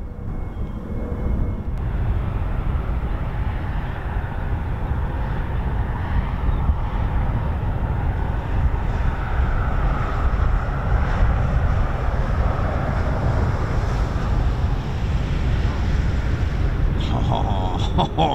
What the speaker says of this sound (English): aircraft used to calibrate and maintain the accuracy of navigational aids such as the Instrument Landing System, ILS, radar systems